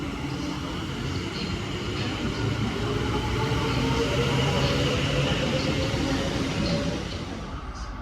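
A DB freight train hauled by class 66 locomotive 66125 rumbles past, heading from Trafford Park to Sutton, with a steady, moderately loud roar of engine and wagons that holds throughout and eases slightly at the end.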